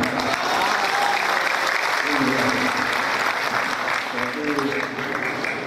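Loud, sustained applause from a large audience inside a grand mosque in Bandung during a sermon gathering, thick continuous clapping with voices murmuring and calling out beneath it.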